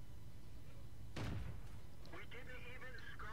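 A tank gun fires once in World of Tanks, from a British Universal Carrier 2 on the Prokhorovka map: a single sharp, booming blast with a short rumbling tail, followed by faint in-game tones and a voice speaking.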